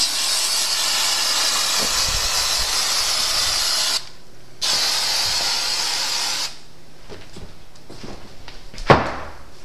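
An aerosol can sprays a steady hiss along the inside edge of a piece for a vinyl wrap, stopping briefly and resuming, then giving way to quieter handling noises and a sharp knock.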